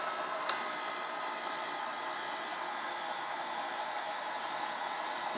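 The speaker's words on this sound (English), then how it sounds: "You just hold the thread up through the slot and it starts winding." A bobbin winder on an EQ20 sewing machine spins thread onto a bobbin, giving a steady, close whir that holds even throughout, with one small tick near the start and no talking.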